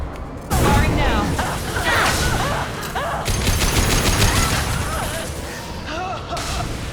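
Dense gunfire in the Mass Effect 2 video game on Insanity difficulty, rapid overlapping shots and impacts with sci-fi weapon tones, loud and nearly continuous, with voices talking underneath.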